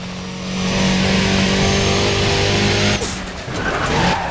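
A race car in the video game Need for Speed ProStreet roars loudly at high revs with a sustained engine tone and tire noise, the pitch shifting as it powers out of a corner.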